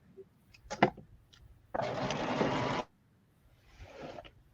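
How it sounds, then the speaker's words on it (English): A sewing machine runs flat out for about a second in one steady, dense burst, followed by a fainter, shorter run of stitching, with small clicks and handling noises before it. "I feel like Michelle's sewing machine is faster than mine. I have my foot to the floor"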